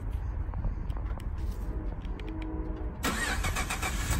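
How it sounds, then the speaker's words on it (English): A 2015 Ford Expedition Limited with 85,000 miles starting by remote start: faint ambient rumble, then the engine cranks and catches about three seconds in, settling into a steady close idle. "Remote start."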